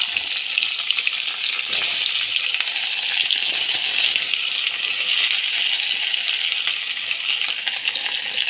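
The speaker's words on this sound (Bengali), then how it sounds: "দিয়ে এবার বেগুনটা ভেজে নেব।" Eggplant sizzles steadily in hot oil in a pan, a dense, close crackling fry with occasional clinks and stirring scrapes throughout.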